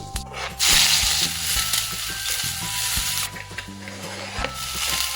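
Mustard seeds, cumin, asafoetida, chilli, onion and tomato sizzle in two spoons of oil. A loud hissing burst comes early, then steady frying and stirring continues under background music.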